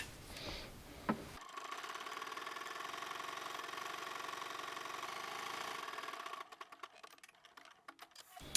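Sewing machine stitching a straight seam in thick stretch knit fabric for pants: a steady, fast mechanical whirring run of about five seconds, followed by slower intermittent clicks as it stops.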